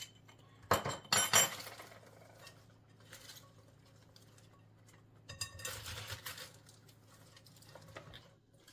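Salted cabbage is tossed and mixed in a bowl for Korean-style cabbage, with soft patters and a few clinks of utensil against the dish in two short bursts separated by quiet.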